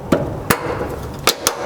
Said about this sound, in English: To get those removed, you'll grab a flat blade screwdriver or a panel pry tool like I have here.